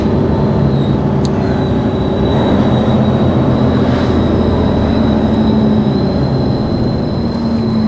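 A vehicle's squeaky brakes give off a thin, steady high-pitched squeal that runs for several seconds over a loud, rumbling traffic and engine background.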